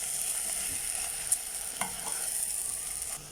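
Aloo paratha filling of mashed potato frying in a pan, a steady quiet sizzle with a few light stirring scrapes and clicks, no voices.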